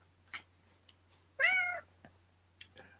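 A single clear cat meow, close and fairly loud, surrounded by quiet with a few faint clicks and rustles.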